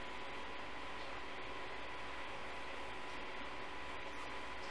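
A sewing machine runs steadily, doing straight stitching and overlock on a girl's blouse, giving a continuous fast mechanical whir and clatter at low level with no talking.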